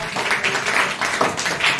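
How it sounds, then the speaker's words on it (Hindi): Schoolchildren in a maths class clap together in a brief, loud burst of rapid, uneven claps that fills the room without pause. "अगर इनका फार्मूला सही हो बेटा तो तालियां बजा दो"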